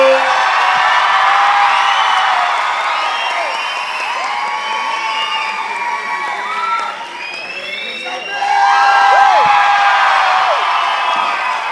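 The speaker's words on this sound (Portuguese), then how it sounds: "mais aplausos para o brabo." A stand-up comedy audience in a crowded venue cheers, whoops and applauds loudly and continuously, with shouting voices rising and falling and a brief dip before a fresh swell of cheering.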